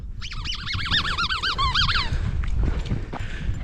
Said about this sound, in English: In fact, I've got a squeaky ball.